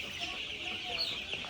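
Fifteen-day-old broiler chickens clucking and peeping in a poultry shed, a faint continuous chorus of high chirps from a flock.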